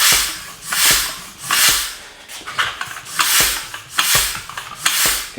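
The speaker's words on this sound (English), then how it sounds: "You can hear right now we got blow by." Air hissing and rasping past the beads of a Vittoria Corsa Pro tubeless road tire during floor-pump inflation, coming in repeated surges with each pump stroke, close and fairly loud, with no talking.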